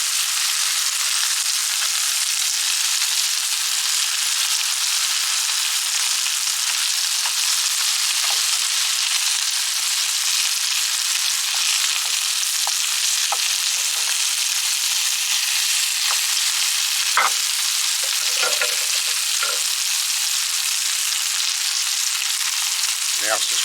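A couple of scotch fillet steaks frying in a pan, a loud, unbroken sizzle running the whole time with faint pops and spits scattered through it, close and steady without any talking.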